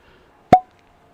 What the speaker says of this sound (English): Nice cork pop. Looks like it's a synthetic cork.